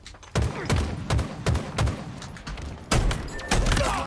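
Rapid bursts of Bandit Rifle fire in the Halo Infinite video game, loud and close, in a steady series of sharp cracks with short gaps between groups of shots.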